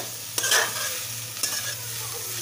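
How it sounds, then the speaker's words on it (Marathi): A spatula scrapes and stirs grated sweet potato in a hot pan with no water added, with a steady sizzle and a few sharp clacks of the utensil against the metal. "आणि परत परतून घ्यायचं आहे।"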